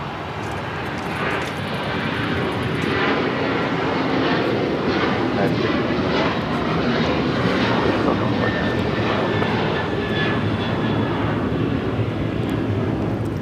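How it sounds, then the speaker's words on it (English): A United Airlines Boeing 737-900ER takes off from LAX bound for Orlando, its engines giving a sustained loud roar that swells slightly toward the middle, with faint talk in the background. "1621 taking off to Orlando on the 737-900ER"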